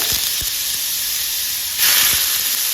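Bottle gourd pieces tipped into very hot oil tempered with asafoetida over a high flame, giving a steady, loud, close hiss that swells sharply near the end as more gourd hits the pan, with a few light clinks.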